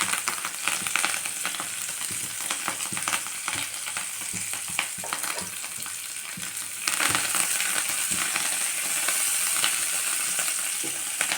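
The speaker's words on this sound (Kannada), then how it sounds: "ಈಗ ಎಣ್ಣೆ ಕಾಯ್ದದ್ರಿ. ಈಗ ಅದಕ್ಕೆ ಕೊತ್ತಂಬರಿ ಹಾಕ್ತೇನೆ," Finely chopped coriander frying in hot oil for an aloo-matar paratha filling, a steady dense sizzle and crackle running throughout, close and loud, growing slightly brighter partway through, with no talking.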